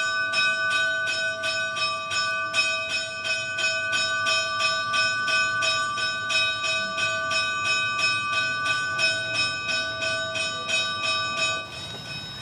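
A church bell rings a rapid, steady festive peal for a child's death in São Miguel do Gostoso, Brazil, each clear metallic strike sounding at an even rhythm for the whole stretch and fading slightly at the end, with no voices.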